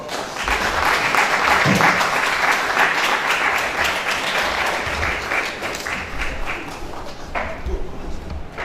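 Audience applause at a health service providers' training session, a dense, steady wash of clapping that stays loud for most of the stretch before easing slightly near the end.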